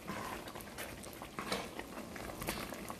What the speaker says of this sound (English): After putting the rice into the cream, you just keep mixing it.